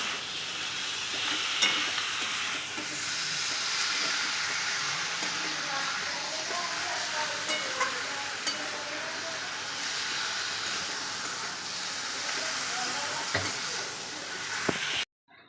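Meat is sautéed in a kadai, with a loud, continuous sizzle and hiss broken by stirring scrapes; the sound cuts off abruptly near the end.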